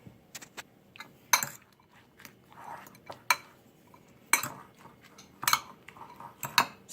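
Utensil scraping and clinking against a bowl while spaghetti squash fritter batter with processed cheese is stirred, irregular close taps and clinks with sharper knocks every second or so, no talking.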